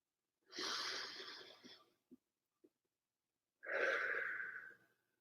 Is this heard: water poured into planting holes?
no